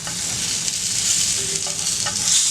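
A chicken steak sizzles as it grills in a pan, giving a loud, steady hiss of frying fat with small pops and crackles, close and uninterrupted by voices.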